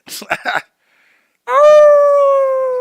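A man imitates a wolf's howl with one long, loud, sustained howl that slowly falls in pitch, following a few quick spoken words and a brief pause.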